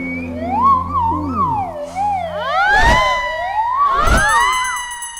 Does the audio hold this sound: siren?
yes